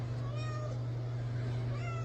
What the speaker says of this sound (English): listening to her crying out for a male cat to mate with in the middle of the night